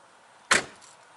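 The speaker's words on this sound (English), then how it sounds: "Actually, let me open the door." A Dodge car door opens with a single sharp click and clunk of the latch, close and fairly loud, its short burst tailing off quietly with no talk.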